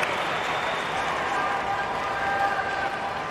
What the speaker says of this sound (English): This crowd, this court is so loud.